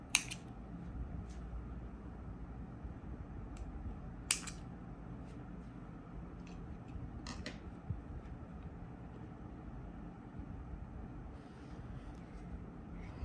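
Scissors snip through crochet yarn in a few quick, sharp, faint cuts spaced apart, set against a quiet room during handcraft work on a spiral keychain.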